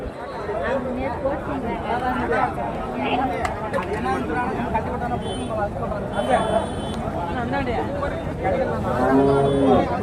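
Cattle at a cow market in Karimangalam, Dharmapuri district, lowing now and then amid a crowd of people talking and general market chatter.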